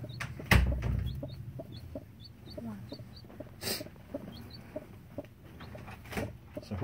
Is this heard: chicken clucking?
yes